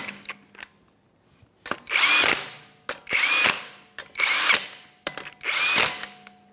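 A power tool spins 21mm lug nuts on a Toyota Sienna wheel in four loud, close bursts of whirring with short pauses between them.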